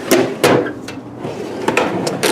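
A tool chest drawer holding power tools slides open and shut with rattling wooden thuds and scraping, a couple of firm knocks at each end of the motion, close by.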